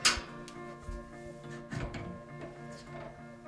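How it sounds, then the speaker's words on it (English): A catalytic wood stove's loading door opens with a sharp metallic click and latch clunk at the start, followed by faint scraping and handling rattles, close by with no talking. "To start the fire in a cold stove, open the loading door and open the bypass handle."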